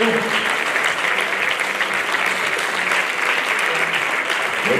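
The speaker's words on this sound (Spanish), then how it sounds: "Fuertes aplausos" An audience at a Galician mountaineering federation awards gala breaks into sustained applause, a broad, even roar of many hands clapping that holds steady throughout without a break.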